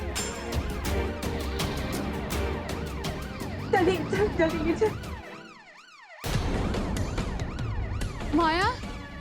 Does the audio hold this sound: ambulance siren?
yes